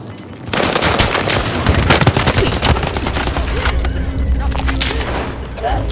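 Heavy, continuous gunfire rattles through a Call of Duty Warzone match on Fortune's Keep, with booming shots layered over voices.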